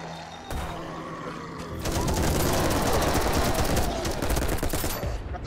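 Rapid bursts of gunfire in 10 Miles To Safety, a short shot early, then a dense sustained volley of crackling automatic fire, loud and close.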